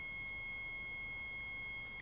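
A handheld anti-spy bug detector with an extendable aerial gives a steady, continuous high-pitched electronic tone, sustained and unbroken at a fairly even level for the whole stretch.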